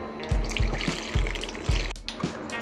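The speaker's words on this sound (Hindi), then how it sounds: "अब इसमें हम धीरे धीरे ये फटा हुआ दूध डालेंगे।" Curdled milk is poured slowly through a cloth over a bowl to strain paneer, giving soft splashes and gurgling pours in several distinct bursts, with liquid trickling between them.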